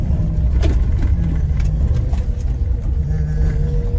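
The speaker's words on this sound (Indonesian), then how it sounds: "Ada mobil." Car on a rough rural road, a close, loud engine rumble with low droning hum rolling steadily through, no talk.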